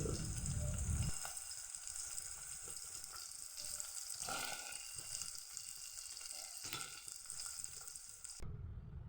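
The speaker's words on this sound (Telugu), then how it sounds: "కట్ చేసుకున్న ఆనియన్స్ వేస్తున్నాను" Chopped onions going into a pan with a pinch of turmeric for brinjal curry, a loud initial hiss settling into steady close sizzling with occasional stirring clinks before cutting off abruptly.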